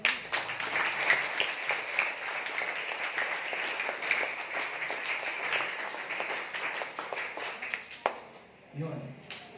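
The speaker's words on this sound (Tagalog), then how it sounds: "Pumalakpak na yung lahat ng nakakaintindi." A church congregation in Sto. Tomas, Batangas claps at length, producing dense, steady patter under a speaking voice before it dies away near the end.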